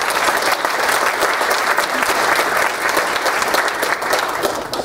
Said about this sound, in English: And so could you all join me in a round of applause for Annette, please?